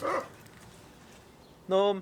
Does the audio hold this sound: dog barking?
yes